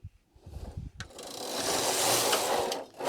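A knitting machine carriage knits rows of two-colour tuck stitch: a few soft clicks, then a sustained mechanical clattering whir as the carriage slides across the bed, cutting off sharply near the end.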